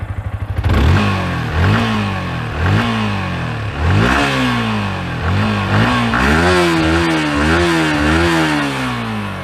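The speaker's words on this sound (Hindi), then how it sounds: "मैं इसका साउंड को सुना रहा हूँ।" A Yamaha R15 V4 motorcycle engine starts, then revs loudly in neutral in a string of rising throttle blips before holding a wavering high-rev drone, close by.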